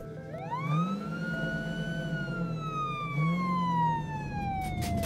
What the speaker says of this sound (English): He was in an ambulance being rushed to the hospital.